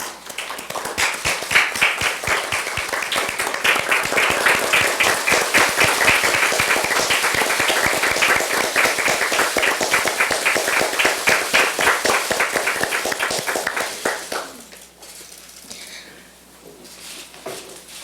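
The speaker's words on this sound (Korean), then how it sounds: "박수로 맞아주시기 바랍니다" A hall audience claps rhythmically in unison at a Democratic Party of Korea event welcoming a new recruit, a young startup founder. The loud, steady clapping lasts about fourteen seconds, then stops abruptly into quiet room tone.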